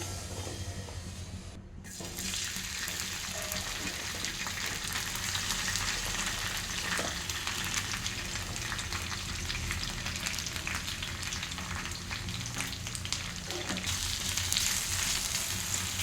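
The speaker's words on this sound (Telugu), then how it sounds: "ఇందులో బెండకాయ వేసుకొని మంచిగా ఫ్రై అవ్వనివ్వాలి" Okra frying in oil in a pan makes a steady, dense sizzle, with a short dip early on and faint clicks of stirring scattered throughout, heard close and without talking.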